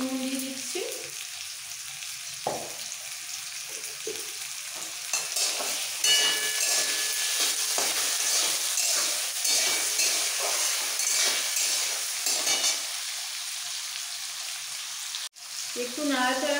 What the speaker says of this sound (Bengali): তেলের মধ্যে আলুটাকে একটু নাড়াচাড়া করে দিয়ে দেবো নুন